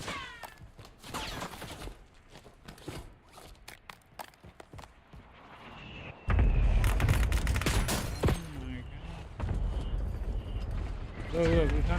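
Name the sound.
gunfire in video game Call of Duty Warzone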